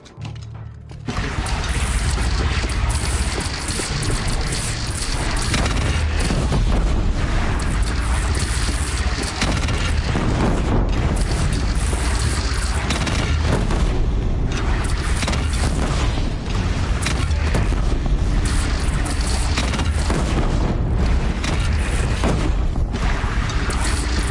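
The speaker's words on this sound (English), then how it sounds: "They only have one cannon!" In the Horizon Zero Dawn video game, a single bandit cannon fires heavy booming blasts, and a continuous loud rumble of battle noise runs beneath them.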